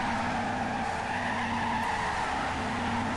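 Tires squeal in a continuous, loud skid as a car does a burnout on a skid pad in the mobile racing game Torque Burnout, with engine roar underneath and no voices.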